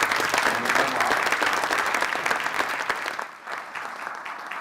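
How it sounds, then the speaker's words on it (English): A conference audience applauds after a keynote on intelligent systems, with a full, dense burst of clapping that softens and thins toward the end. "So again, give some applause."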